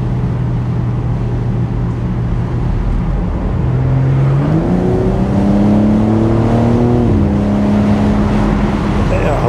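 A 2024 BMW M4 Competition Convertible with xDrive accelerates hard, heard from inside the cabin as a loud, steady engine roar that climbs in pitch through two quick upshifts.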